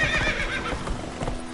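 Roach, Geralt's horse in The Witcher 3, neighs and whinnies up close over steady hoof clip-clop and a busy outdoor background.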